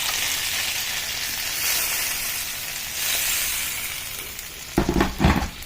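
Mackerel curry spices sizzle and hiss steadily in a hot pan, then hot water poured in brings a burst of louder bubbling and spitting near the end.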